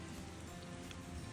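Steady thunderstorm rain patters densely on a surface in Maryland, a continuous even hiss filling the short stretch without any voices.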